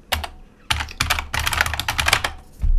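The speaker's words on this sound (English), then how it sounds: "people could just type at the DOS prompt, you know, type and edit" Fast typing on a computer keyboard at a DOS prompt, close and loud, with bursts of rapid key clicks separated by short pauses.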